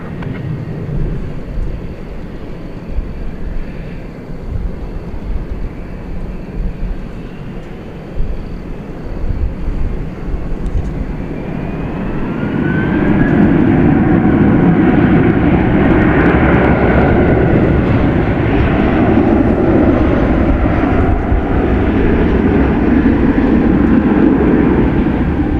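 A jet airliner, flight 3889 from Monterrey, Mexico, on the runway at DFW airport, its engine roar rising sharply midway and holding loud and broad to the end.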